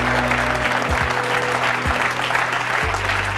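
A studio audience at a French talk show claps warmly, a dense, even wash of applause near and loud throughout.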